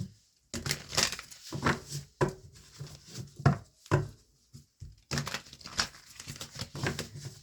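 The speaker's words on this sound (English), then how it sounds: "let's just give it a quick shuffle" A deck of tarot cards is shuffled close by in a quick series of papery riffling and slapping bursts, with short pauses between them and no other sound.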